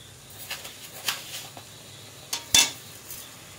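Grated coconut and sugar being stirred in a bowl, with light scraping and several sharp clinks of a utensil against the dish, close and quiet, with no talking.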